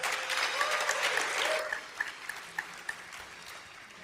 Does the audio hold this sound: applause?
yes